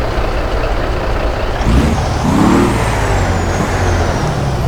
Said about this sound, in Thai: เสียงเทอร์โบ